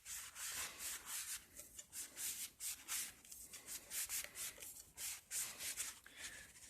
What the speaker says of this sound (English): I'm going to clean the inside of this turntable platter.